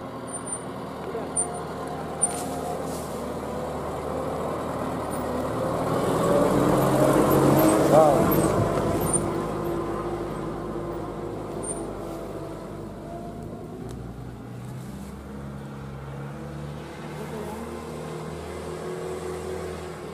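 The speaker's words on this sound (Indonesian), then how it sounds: "Lihat mobil-mobil." Cars and heavier vehicles move along a steep mountain road near a high village, a continuous engine rumble that swells as one passes close around the middle, then eases back to a steady drone.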